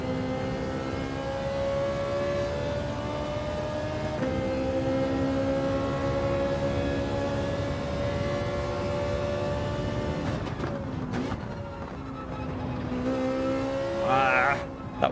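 A Ferrari in Gran Turismo 7 accelerating uphill, a steady high-revving engine whine with harmonic tones holding for about ten seconds, then a brief dip and renewed revving near the end, loud and close.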